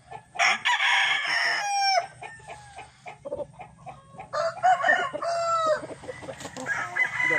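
A broodcock gamefowl rooster crows loudly and close, with a second rooster's crow following and other fowl clucking around them on a gamefarm.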